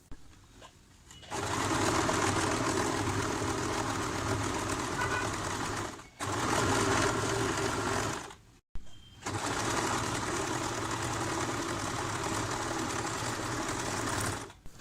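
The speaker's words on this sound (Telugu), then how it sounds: "ఇప్పుడు మనం పైన క్లాత్ని కొంచెం ఉండేటట్టుగా వదిలేసి కింద నుంచి ఇలా స్టిచ్" A sewing machine runs pico stitching along the edge of a saree, a loud, steady mechanical whir up close that stops briefly twice before resuming.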